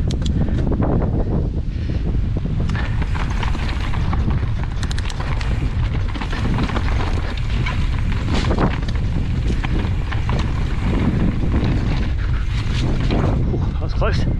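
A strong headwind roars against the microphone on a mountain bike descent on the Kirkhill trails, loud continuous rumbling buffeting with gusty bursts, while a rider speaks over it at times.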